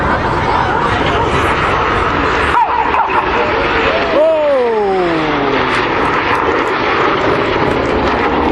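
Red Arrows jets fly low at about 100 feet in an opposition barrel roll at the Sunderland International Airshow, engines roaring loudly and continuously with clear Doppler sweeps as the aircraft pass close overhead.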